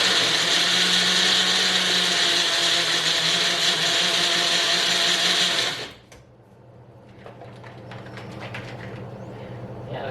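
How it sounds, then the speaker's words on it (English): A Magic Bullet blender whirs loudly and steadily for several seconds while mixing ingredients including raisins and corn syrup, then cuts off abruptly, leaving quiet room noise and faint clatter. "magic bullet blender here."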